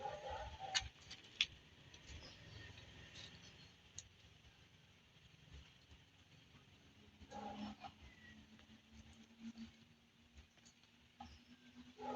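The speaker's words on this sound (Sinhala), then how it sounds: "ඔයාලටත් ඒ නිහඬ බව ලස්සන කුරුල්ලන්ගේ හඬත් එක්ක" Sparse bird chirps and calls ring out faintly in a very quiet home garden behind a house, with long stretches of near silence between them.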